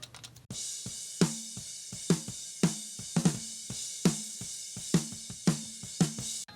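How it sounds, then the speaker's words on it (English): Unprocessed real snare drum heard soloed from a mix, a dry, somewhat lifeless hit repeating steadily about once or twice a second over a faint hiss, moderately quiet and close, with no voices. "let me show you what the real snare drum sounds like with no processing"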